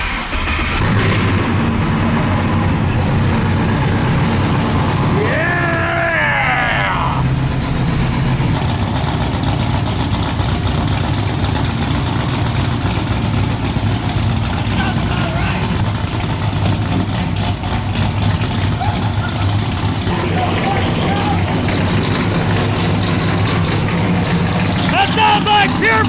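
A Chevy C10 squarebody street truck fitted with NASCAR boom tubes, its engine running loud and steady with a deep, continuous rumble and no clear start, while several people talk and react over it.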